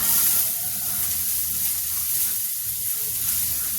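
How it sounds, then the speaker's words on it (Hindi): Chopped onion goes into garlic frying in a pan while cooking ridge gourd, a steady bright sizzle and hiss close up with a brief louder burst at the start. "तो अब इसमें हम डाल देते हैं ये अपना प्याज।"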